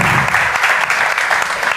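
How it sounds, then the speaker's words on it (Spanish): An audience at a Spanish artist's poetry performance breaks into dense, steady applause, loud and close, with no talking over it. "Un aplauso, por favor, para José Luis."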